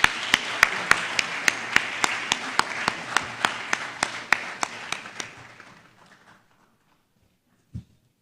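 Audience applause after a memorial lecture at a founder's week celebration, a few loud close hand claps over softer crowd clapping, fading out over several seconds into quiet, followed by a single faint knock.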